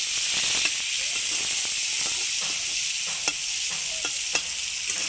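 Sliced onions fry and brown in a pan of oil for a drumstick and fish-head curry, giving a steady close sizzle with scattered crackles and faint stirring clicks throughout.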